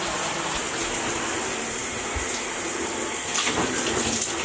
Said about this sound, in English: I'm gonna go splash him with some cold water